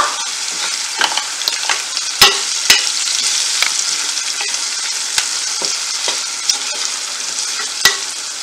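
Mussels roasting Kerala style in a pan as powdered spices including garam masala are mixed in: a steady close sizzle broken by sharp spoon scrapes and knocks against the pan at irregular intervals.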